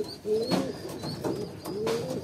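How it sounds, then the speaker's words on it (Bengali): Male pigeons kept as breeders at a home coo in close, soft, rolling phrases, three or four throaty calls overlapping with faint background rustle. "এগুলা সব নর কবুতর।"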